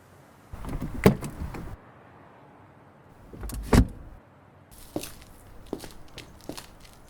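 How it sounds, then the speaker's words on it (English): A car door is opened and shut in a few separate clunks and rattles, with sharp thuds near the start and middle and lighter handling sounds afterward, no talking. "May I open the door for you?"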